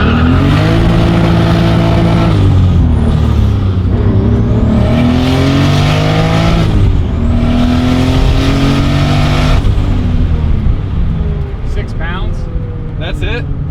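Turbocharged BMW E36 M3 on a dyno, its engine roaring loud and close through several long rising pulls with turbo whine, then dropping off near the end as voices come in.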